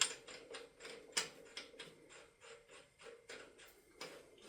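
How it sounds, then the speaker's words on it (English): A crank bolt is threaded by hand into a 1996 Mazda Miata 1.8L engine, giving a quiet series of close ratcheting clicks and metallic rubbing in an uneven rhythm. "you grab your crank bolt and you thread it in"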